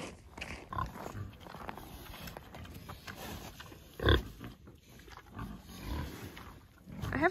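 Pigs on a farm grunting and snorting close by, irregular low grunts spread across several seconds with one louder burst in the middle.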